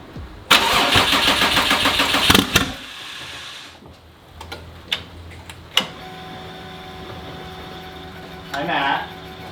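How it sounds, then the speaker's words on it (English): A turbocharged Porscharu engine cranks and fires with a loud, rapid burst, then falls quiet with scattered clicks and clanks before settling into a lower running note, and people talk briefly. "Let's just start this thing."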